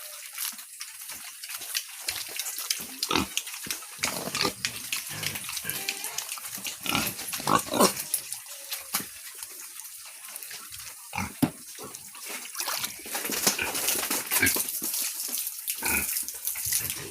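Native piglets in the Philippines grunt and snuffle while eating corn bran, with frequent short, close grunts and squeals over scattered rustling and splashing feeding noise.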